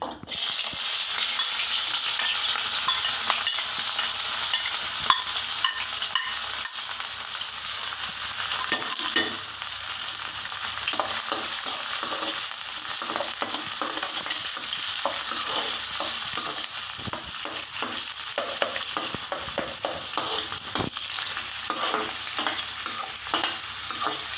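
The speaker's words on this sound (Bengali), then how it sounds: "আমি পেঁয়াজগুলো এখন ছেড়ে দিচ্ছি" Sliced onions sizzle and crackle steadily in hot oil in a pan, stirred now and then, while cooking for a Bombay duck dried fish (loitta shutki) recipe with Malabar spinach leaves; continuous and close, with no talking.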